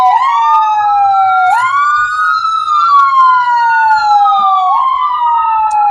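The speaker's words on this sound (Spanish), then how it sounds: "Vamos a esperar que pase la ambulancia." Ambulance siren wailing loud and near, its tone sweeping up and down in long repeated cycles as it passes, with no talk over it.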